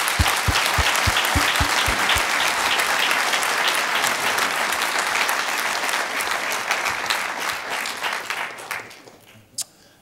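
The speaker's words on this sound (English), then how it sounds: "So why don't we all give Hannu a great applause?" Audience applause for Hannu at the Finland Country Session of the Arctic Circle 2014 conference, sustained and dense for about nine seconds before fading out, ending in a few scattered claps.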